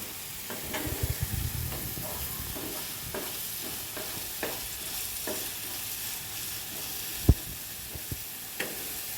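Onion and garlic sizzle steadily in hot oil for a Hyderabadi egg curry, a constant close frying hiss broken by occasional scrapes and taps of the stirring spoon, with no one speaking.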